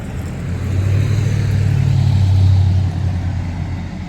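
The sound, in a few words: loud truck engine passing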